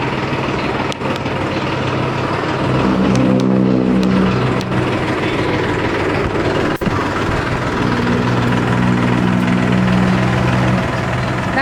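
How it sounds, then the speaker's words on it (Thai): A new car engine runs steadily as the car moves out of a dealership showroom, giving a loud, close, constant rumble that rises slightly in tone partway through, with no talking. "ขยับรถออกจากโชว์รูมแล้ว"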